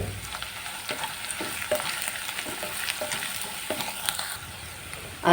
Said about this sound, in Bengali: এবার হালকা হালকা করে নাড়াচাড়া করে একটু ভেজে নিতে হবে